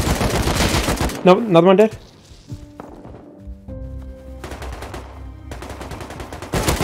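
Rapid automatic gunfire in the Rust video game crackles in bursts at the start and again near the end, with a player talking in between over quieter game sounds.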